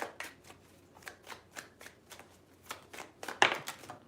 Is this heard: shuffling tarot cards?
yes